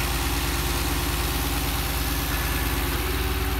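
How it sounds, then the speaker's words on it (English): A 2015 Dodge Challenger engine idles close by, a steady low rumble with an even pulsing throb and no talk over it. "You can hear the purr of that beautiful engine."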